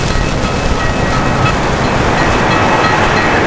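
A loud, steady roar of a train rushing past a nearby railroad crossing, a dense continuous rumble with faint rattling, no voices.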